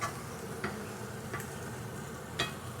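Onion or shallot pieces in a skillet give a steady, soft sizzle of frying fat, broken by a few light scraping taps as they are pushed toward the cooler edges; no voices.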